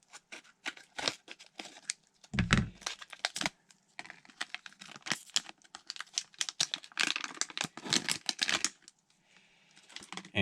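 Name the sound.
tearing open plastic wrapping of Beyblade booster pack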